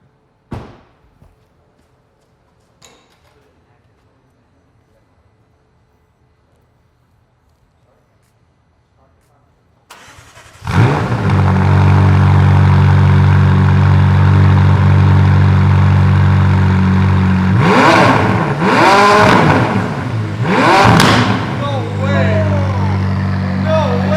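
A quiet start gives way to a McLaren 570S engine with a titanium exhaust firing up loudly and idling with a deep rumble, then revving sharply several times near the end.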